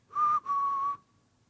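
Two short whistled notes, a brief one then a longer steady one, clear and close with no talking.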